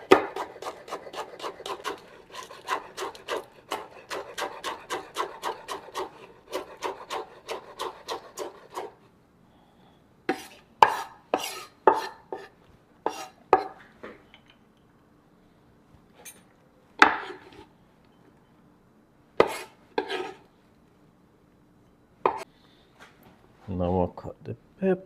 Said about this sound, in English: Cut the scallions now.